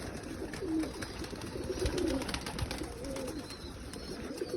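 Pigeons cooing in a loft, soft repeated low coos overlapping in a continuous murmur, close by and steady with no talk.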